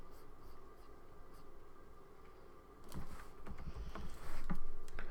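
A pen makes soft scratching strokes while a head is drawn for a late-night art session, quiet at first and then firmer, with a few louder taps and scrapes toward the end.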